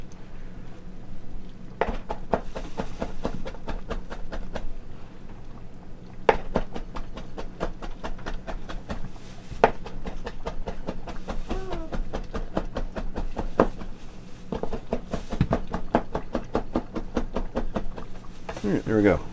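A knife chopping basil and oregano on a board, sharp knocks coming in quick bursts of repeated strokes with pauses between, close and clear, while a person talks intermittently.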